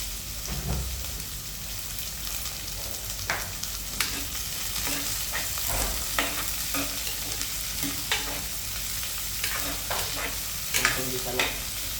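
Onions sizzle and fry in a pan over an outdoor countryside cooking fire, a soft, steady crackle with occasional stirring scrapes and clinks.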